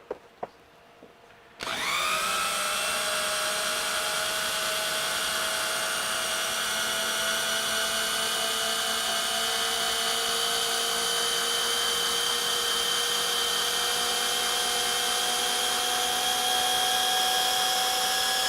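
A portable car lift is raised, starting after a brief quiet moment with a loud, steady electric motor whine that holds evenly and close for the rest of the stretch.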